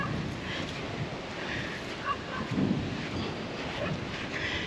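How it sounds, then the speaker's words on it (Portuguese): Steady wind buffeting the microphone outdoors on a beach at Arambaré, Brazil, a continuous low rumble with occasional gusts and faint background sounds. "Hoje está ventando"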